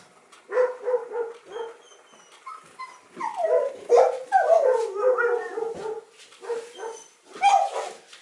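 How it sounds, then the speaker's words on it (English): Two dogs bark, yip and howl close by in a loud, uneven run of calls, with short pauses between bursts. "That's why there's two dogs."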